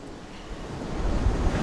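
Sea waves break at the shore as a short, close wash of surf mixed with wind rumble, swelling louder toward the end.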